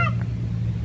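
A cat meows once, short and close, at the start over a steady low engine-like hum at an outdoor spot near a large mosque.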